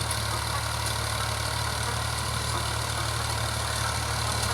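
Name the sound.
tractor engine idling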